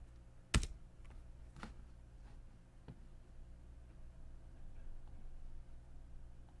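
Computer keyboard typing, soft scattered keystrokes with one sharper click near the start, faint and close in a quiet room.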